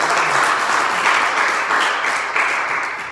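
A church congregation at a Sunday service applauds loudly and steadily, a dense wash of many hands clapping together for about three seconds, swelling slightly in places before easing off toward the end, with no voices over it.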